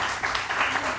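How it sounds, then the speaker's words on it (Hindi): A studio audience applauds a model and actress guest on a morning TV show, a short burst of mid-level clapping from a small crowd. "Nubia Mansoor is a model and actress, इनके लिए बहुत सारी तालियां"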